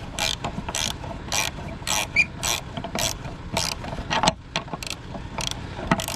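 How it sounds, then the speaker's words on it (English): A wrench ratchets on a tight brass bolt held in a vise, giving a series of close, crisp clicking bursts in an irregular rhythm with no talk. "if we push the vise down, we can get the wrench on the bolt, maybe"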